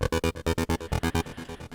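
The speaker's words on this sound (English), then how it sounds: "So then I have another layer from a Serum synthesizer, where I basically took a square wave and added effects on it." A Serum synthesizer square wave bass layer with effects pulses in a fast, even rhythm of about a dozen buzzy hits, the last few softer, heard alone.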